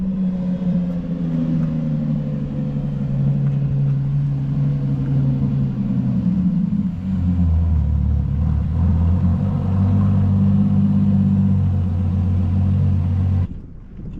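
A car engine cold-starts and settles into a rough, loud rumbling idle, its low drone shifting in pitch partway through before cutting off abruptly near the end, with no talk over it.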